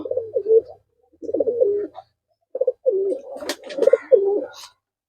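Murshidabad tumbler pigeons coo from nearby cages in several distinct bursts of throaty, bubbling calls separated by short silences, loud and clear with no talk.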